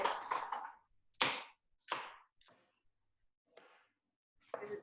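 A knife chops food for salatim on a board in a handful of sharp, irregular strikes with quiet gaps between them, close by.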